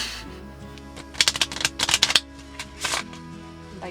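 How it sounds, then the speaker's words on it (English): Playing cards are shuffled by hand inside a camper van, a quick flurry of crisp riffling clicks and flutters building to a final bridge, close up over a low steady hum. "I'm pretty bad at shuffling."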